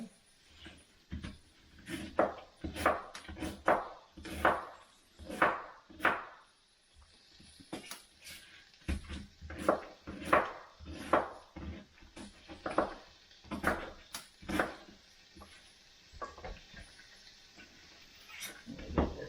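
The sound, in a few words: chopping cabbage with a knife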